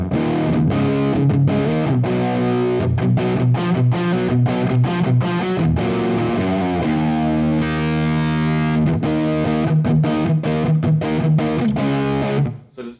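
Electric guitar played through a Wampler Ratsbane distortion pedal, a steady run of distorted chords and notes, loud and continuous for about twelve seconds before cutting off abruptly.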